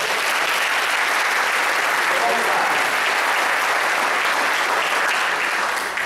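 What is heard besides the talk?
congregation applause in church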